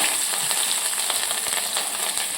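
Cumin, asafoetida, chopped garlic and green chilli sizzle in hot oil, a bright continuous hiss with a few faint clicks.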